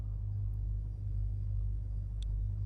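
Steady low rumbling thrust from a small rocket's engine in the video game Spaceflight Simulator, a continuous droning hum held at an even level throughout, with a faint high ping near the end.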